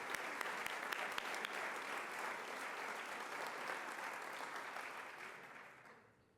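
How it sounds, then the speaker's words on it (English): An audience at an ELC reception kick-off event claps in sustained, dense applause that holds steady for several seconds, then tapers off near the end. "a round of applause for their work"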